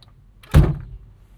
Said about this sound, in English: let's shut the door